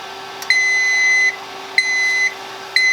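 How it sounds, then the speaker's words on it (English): A clear electronic timer on a Procolored K13 Lite printer beeps three times, each a long, steady high tone lasting under a second, with short gaps between. There is no talking. "Okay, timer's about to go off."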